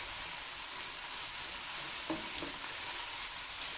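Mince fries in oil for a curry, giving a continuous, fairly faint hiss of sizzling with a couple of soft stirring taps and no talk.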